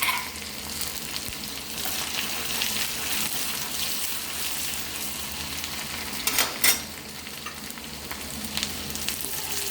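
Urad dal and shallots frying in a pan for Chennai-style kootu curry, a steady hiss of hot oil with occasional stirring scrapes and a brief louder burst near the end.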